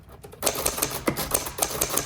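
A 1926 Underwood four-bank manual typewriter clatters with a run of crisp key strikes and mechanical clacks close by, its carriage moving on to the next line amid the typing.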